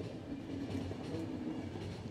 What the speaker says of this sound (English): there's a train back there